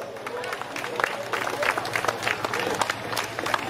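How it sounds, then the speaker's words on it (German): Applause from spectators at the start of a classic car rally in Essen-Steele, moderate scattered clapping with some crowd murmur beneath, heard at a distance outdoors. "Das ist euer Applaus."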